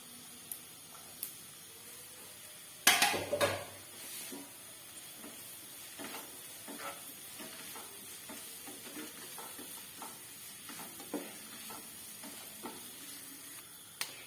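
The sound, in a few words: onions frying in a pan with garlic and ginger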